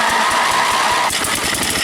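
A small engine on a lifted go kart, running on choke, sputters and revs unevenly up close, with a rough pulsing rhythm through the short burst.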